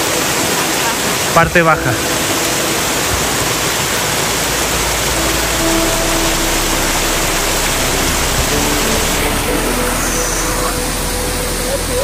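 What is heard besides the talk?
waterfall in Ushuaia, Tierra del Fuego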